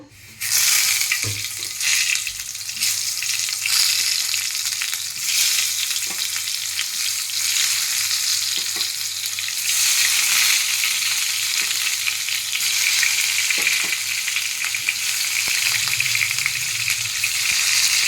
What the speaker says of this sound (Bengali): তেলটা গরম হয়ে গেছে, এবারে বেগুনগুলো আমি একটা একটা করে ভেজে নেব।